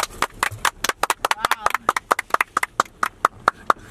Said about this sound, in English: Let's clap, people. Clap, clap, clap,